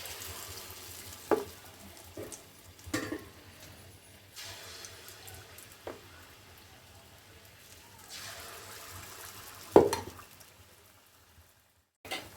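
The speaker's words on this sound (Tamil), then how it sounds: "எண்ணெய் காஞ்ச உடனே இப்படி எடுத்து ஊற்றணும்." Banana appam batter is poured into hot oil and fries, giving soft sizzles and bubbling with a few sharper splashes and stirring clicks. A louder burst comes near the end before the sound drops away.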